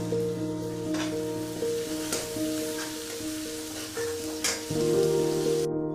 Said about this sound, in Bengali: টমেটোটা একটু পেঁয়াজের সাথে ভালো মতো কষিয়ে নেব